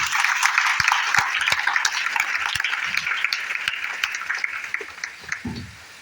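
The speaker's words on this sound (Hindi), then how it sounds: "एक जोरदार ताली होनी चाहिए।" Audience applause at a DXN business seminar in India: a dense, steady round of clapping from a crowd that carries on for several seconds, then thins out and fades near the end.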